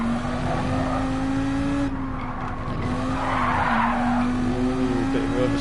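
A GT3 race car in Gran Turismo 7 at Spa oversteering, with a sustained tire squeal and skid over the droning engine, loud and continuous, with a voice briefly audible underneath.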